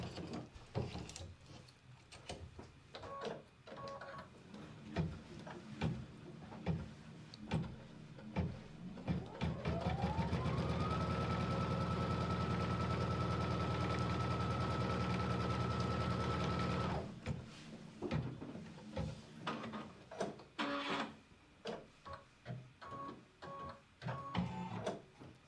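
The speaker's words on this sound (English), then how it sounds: "Place it back onto the machine. It's going to stitch the perfect 1/4 inch here" A sewing machine stitches a quarter-inch quilting seam, its motor spinning up into a steady mechanical whir that runs for several seconds before stopping, framed by quiet fabric handling and clicks.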